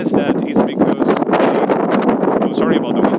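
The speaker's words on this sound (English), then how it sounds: "Oh, sorry about the wind, by the way." Heavy wind buffeting a microphone at a beach, a loud, continuous rumbling roar with gusty fluctuations, and a voice speaking beneath it.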